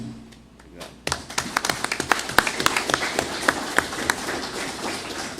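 Applause at a city council session breaks out after a short lull, with many hands clapping in a dense, uneven patter around a large hall that holds steady until the end.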